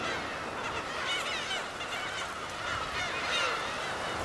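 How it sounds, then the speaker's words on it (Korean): Black-tailed gulls calling on Dokdo island, a dense overlapping chorus of honking, mewing cries over steady background noise, continuous throughout with no speech. "분명 괭이갈매기다."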